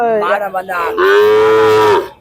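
Cattle lowing at the Barkur cattle market in Anthiyur, a loud, close moo that starts with a few short broken calls and then swells into one long sustained bellow lasting about a second before fading.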